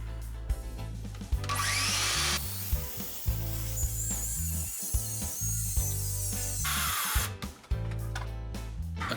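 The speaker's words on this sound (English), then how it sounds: "I'll just go along with my circular saw there and it will keep it all in one line" A circular saw cuts a straight line along a straight edge in wood for a rustic table upcycle. It gives a loud, close, high whine that rises and dips as the blade bites, with short pauses between passes.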